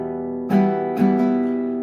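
Two strummed acoustic guitar chords from a song's chord progression, each bright attack ringing out and sustaining loudly and close with no voice.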